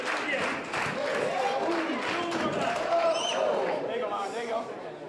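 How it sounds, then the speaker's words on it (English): A live wrestling crowd during a tag team match roars and cheers steadily, a dense wash of voices with scattered shouts and clapping, with a commentator talking over it throughout. "Listen to this crowd just enjoying this match, respecting this match."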